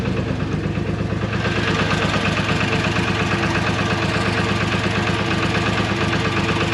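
A New Holland L783 tractor engine idles steadily and loudly at close range, a continuous mechanical drone with a regular low throb that holds unchanged from start to finish.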